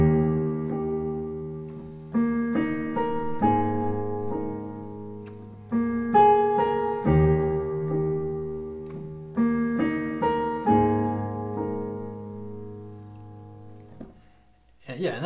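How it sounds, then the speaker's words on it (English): Solo piano plays the intro of the worship song Living Hope with both hands, sustained bass notes under repeating chord phrases and a melody line, rising and decaying in gentle swells, close and clear with no voices. "So I'll go ahead and play the intro hands together for you."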